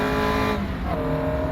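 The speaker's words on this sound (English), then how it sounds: "we'll start the car, very low power." Caterham Academy race car in rFactor 2 at Castle Combe idling at very low power, a steady close engine hum with a slight pitch shift partway through.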